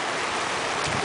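Floodwater rushes steadily through the streets of San Juan, Noveleta during Typhoon Ondoy in 2009, a dense, continuous wash of flowing water with no voices.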